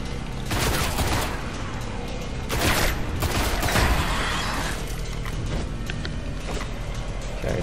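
Gunfire in the video game Destiny rattles in a dense, loud, continuous burst of rapid shots with crackling impacts throughout.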